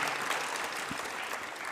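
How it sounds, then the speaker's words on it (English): Applause from a conference audience in a large auditorium, a steady dense patter of many hands clapping throughout, fairly loud and continuous with no speech over it. "so you should clap for him, not for me"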